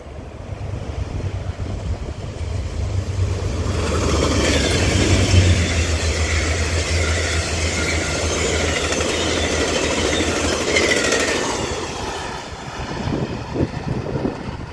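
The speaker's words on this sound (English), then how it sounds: "Amtrak 92 here at Boynton Beach." An Amtrak passenger train passes Boynton Beach station in Florida with a second locomotive trailing, a broad rumbling roar that builds, holds steady for several seconds, then fades with wind noise and no talk.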